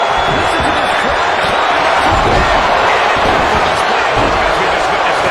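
A video game wrestling arena crowd roars in a dense, steady wash of cheering that stays loud and unbroken throughout.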